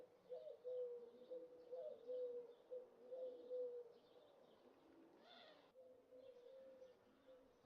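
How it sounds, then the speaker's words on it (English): Birds call in the farming game Farming Simulator 25, a steady repeating cooing and hooting chorus with soft chirps above, fairly quiet, with a brief louder burst just past the middle. "Oh, those birds are loud."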